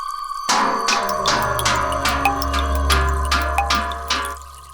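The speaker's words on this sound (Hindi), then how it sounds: "मम्मी पानी आ गया, आके भर दो नीचे।" Water runs from a tap after a brief quiet start, a steady close splashing stream with irregular drips and trickles over a low rumble, continuing to the end.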